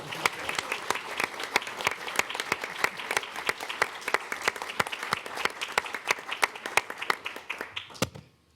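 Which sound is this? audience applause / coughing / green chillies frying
audience applause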